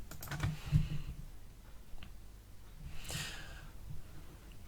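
Computer keyboard keys and mouse clicks tap close by, a quick cluster early then sparse single clicks, quiet with light breathing and no talk.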